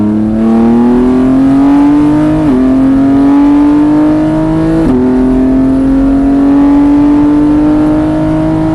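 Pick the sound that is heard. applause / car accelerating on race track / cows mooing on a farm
car accelerating on race track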